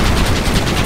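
Rapid gunfire from Red Dead Redemption bursts loud and dense in a brief volley, with shots running together in quick succession.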